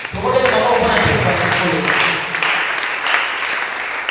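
A church congregation breaks into sustained applause and cheering for Jesus, a dense wash of clapping hands lasting several seconds with voices mixed in.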